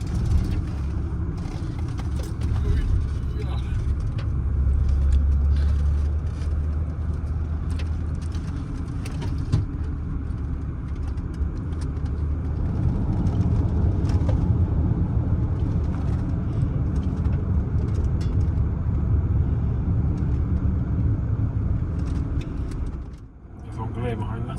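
A 220,000-mile Range Rover L322 with a TDV8 diesel engine drives downhill on a European road trip, its steady low engine and road rumble continuous and close throughout, with people talking over it.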